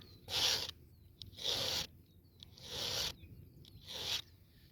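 A hand file sharpens a chainsaw chain in four even, rhythmic rasping strokes close up, with short pauses between them.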